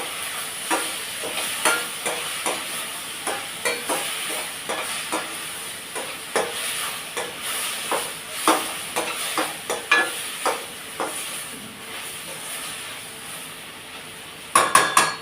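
Tomatoes with salt cook in a pan, a soft sizzle under repeated rhythmic scraping strokes of a spoon stirring, ending in a quick clatter of utensil on metal.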